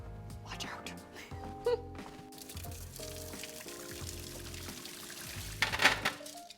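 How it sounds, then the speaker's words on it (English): Boiled potatoes being drained of their cooking water, a steady pouring splash running under a speaking voice, with a brief louder gush near the end. "So now it's time to drain all that water out."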